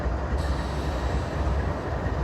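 A train passes close by, a loud continuous rumble of rail cars with a steady low roar and faint wheel rattle, no voices over it.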